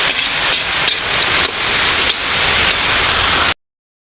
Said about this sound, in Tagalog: Lakas na naman po ng ulan.